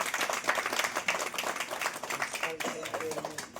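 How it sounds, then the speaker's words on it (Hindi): Audience applause fills a felicitation program honouring newly elected members, a steady dense clapping crowd throughout with voices talking underneath. "जोरदार तालियां बजाइए।"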